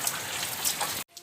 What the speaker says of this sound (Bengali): বাইরে প্রচন্ড ঝড় বৃষ্টি